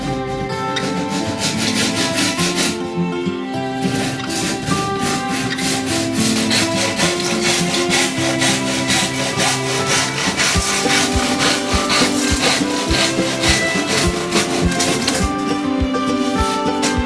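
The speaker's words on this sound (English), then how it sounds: "Then I do the sawing." A hand saw cuts through wood in steady, rapid back-and-forth strokes, loud and close, continuing without pause.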